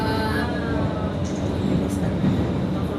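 An LRT train in Manila rolls into its terminal station, a steady close rumble of wheels and car noise with faint squeals and a high whine, while people talk nearby.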